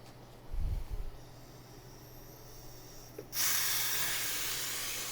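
Steam hisses loudly and steadily from a pressure-building pot while pozole verde soup cooks, starting abruptly partway through after some low thumps and continuing alone to the end.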